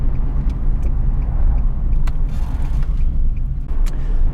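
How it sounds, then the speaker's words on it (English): A car driving along a road out of a village in the West Country, a steady loud engine and road rumble inside the cabin with occasional creaks and clicks, no talking. "this is the first time I have driven this car out of the village"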